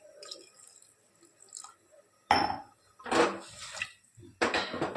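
Water pours and splashes into a pressure cooker in three short bursts, with faint clinks and drips between them.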